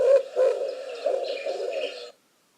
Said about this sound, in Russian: Голубь.